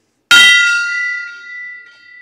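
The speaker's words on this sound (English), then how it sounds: "First gong hit of the day going to Chris Simmons, blue Kjerstad." A single loud metal gong strike at a sports card breaking stream rings out with a sharp attack, then a long shimmering decay that slowly fades over a couple of seconds, heard alone.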